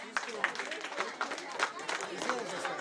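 Audience applause at the closing ceremony of a Sankranti festival event in Greater Gajulapalle, a steady patter of many hands clapping with crowd murmur and a voice over the top.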